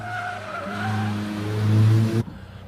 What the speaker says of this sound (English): Tyres squealing in protest.